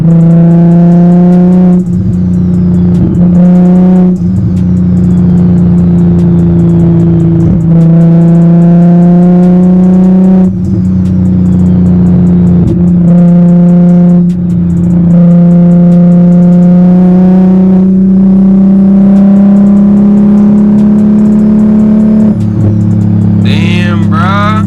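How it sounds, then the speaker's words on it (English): BMW M340i under way with a loud, close engine drone as it accelerates through gears, with repeated shift breaks and a rising turbo whine near the end. "Just listen to that turbo spool, bro."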